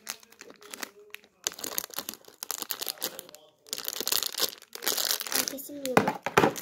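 Boxes are opened and packaging crinkles and tears in bursts close by, while people talk over the rustling.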